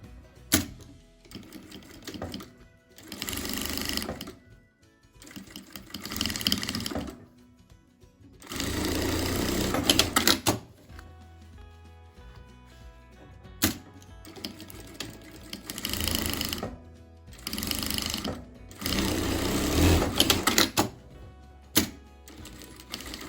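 A sewing machine stitches a zipper seam across a fabric coin purse in bursts of rapid, rattling mechanical stitching, loud and close, separated by short pauses.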